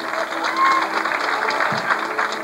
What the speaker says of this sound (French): Voilà, on applaudit bien fort.